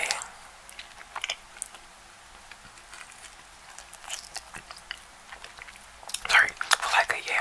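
Soft whispering and close, wet chewing of roti bread, with faint crisp bites and mouth sounds scattered through a quiet background, growing louder and busier near the end.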